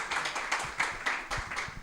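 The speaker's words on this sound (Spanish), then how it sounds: "Por favor, aplausos para la señorita." Light, scattered clapping from a small studio audience welcoming a guest on a student TV program, soft and somewhat distant with uneven hand strikes over a brief stretch.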